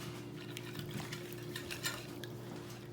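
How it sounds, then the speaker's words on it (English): A whisk beating low carb Bisquick batter in a bowl, quick continuous scraping and clinking strokes, close and steady with no talking. "And then we're going to whisk that up really good."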